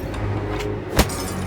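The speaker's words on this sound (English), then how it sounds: "I smashed the bottle over the guy's head." A glass bottle smashed over a man's head in the video game Beyond a Steel Sky: one sharp, loud crash over a steady game backdrop, with no talk.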